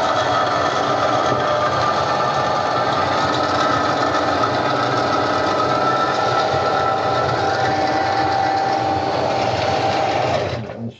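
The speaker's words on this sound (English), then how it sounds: "we're going to snake the vent out with the canine 204" A foot-pedal drain snake machine clearing a clogged plumbing vent from the roof, giving off a steady, loud mechanical whir with a constant pitch that runs for about ten seconds before winding down.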